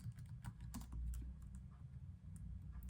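Quiet, close typing on a computer keyboard, a quick irregular patter of soft key clicks with no talking.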